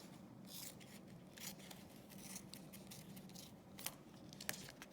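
Scissors cut a piece off a very soft roll of lure-making material laid on a towel, a faint close-up series of quiet snips and rubbing scrapes with a couple of sharper clicks near the end.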